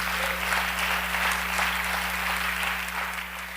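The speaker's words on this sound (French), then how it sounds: "On acclame Jésus de Nazareth." A church congregation applauds and cheers to acclaim Jesus of Nazareth, a dense, steady wall of clapping and voices that holds loud throughout and eases slightly at the end.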